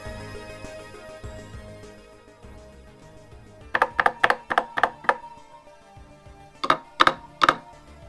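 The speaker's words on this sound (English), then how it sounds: "a little bit more keyboard ASMR" Two quick bursts of mechanical keyboard clacks on a NABU computer, about six sharp keystrokes then three more, crisp and close over a quiet background.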